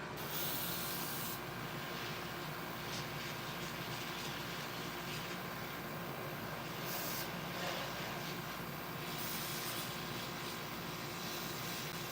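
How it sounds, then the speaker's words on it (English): Airbrush spraying during a live workshop model build, a steady hissing spray that runs continuously and fairly loud, with a slight sputter from the partly blocked nozzle and brief dips in intensity. "My airbrush is getting a little bit blocked."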